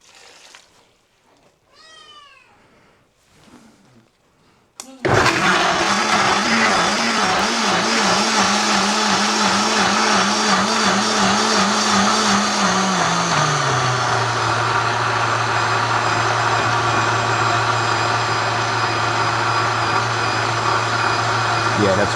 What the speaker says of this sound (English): I'm gonna put this in the blender.